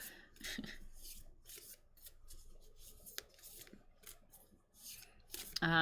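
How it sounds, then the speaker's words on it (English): Tarot cards shuffled over and over, with rapid papery riffles and rustling bursts in an uneven rhythm, close and fairly quiet. "I'm just like overly extensively shuffling my cards now"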